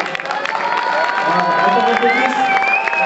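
Crowd at a September demonstration event cheers and claps loudly, with high excited voices and shouts over steady applause throughout.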